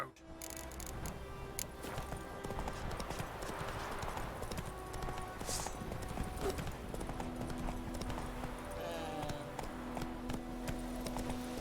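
Roach the horse gallops in The Witcher 3, hooves clip-clopping in a steady, quick rhythm for the whole stretch, fairly faint, with ambient game sound and little talk.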